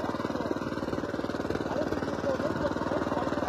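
A custom mini bike's small engine drones steadily as it climbs a steep hill, a close, rapid pulsing putter at constant revs, with faint voices underneath.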